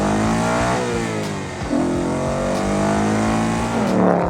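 A 2019 Ford Mustang Bullitt's V8 engine revs hard through the gears, pitch climbing steadily, with a brief dip and jump at each shift. It is loud and close, heard from inside the car with no talking.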